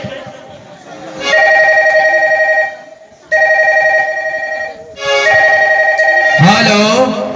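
A telephone rings in three long electronic bursts with short gaps between them, loud and close, after a number is dialed, and a voice cuts in at the very end.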